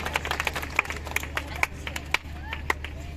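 Students at Shree Ganesh International School in Korhale clap for their teachers: a scattered, uneven run of sharp hand claps from a modest group, moderately close, with some voices in the background.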